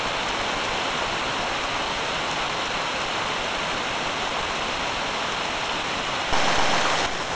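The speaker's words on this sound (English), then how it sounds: "And now very heavily, the rain is falling." Heavy rain pouring down in a dense, steady roar that stays loud and unbroken, swelling slightly near the end, with no voices.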